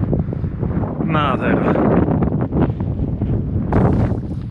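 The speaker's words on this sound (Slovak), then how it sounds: "Vonku zase začal extrémne fúkať." Strong wind blows across an exposed mountain ridge in the Lofoten islands, a loud, roaring gust buffeting the microphone while someone speaks briefly over it.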